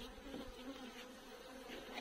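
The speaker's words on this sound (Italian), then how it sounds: "Le api sono molto nervose" Agitated honeybees swarm around an opened beehive on a warm, breezy day, giving a steady, dense buzzing drone heard close and alone.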